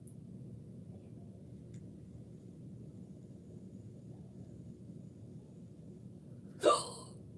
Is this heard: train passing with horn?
no